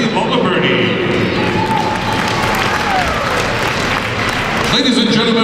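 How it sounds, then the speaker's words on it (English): Steady applause from an audience for Winter Frolic Queen candidates and their escorts, a dense continuous wash of clapping that stays loud and even throughout, with a voice on a PA speaking over it. "let's have a nice round of applause for our 15 Winter Frolic Queen candidates and their escorts"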